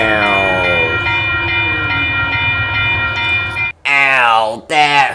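A loud train horn blares in long sustained blasts over rumbling rail noise at a level crossing, then cuts off abruptly before two more short horn sounds.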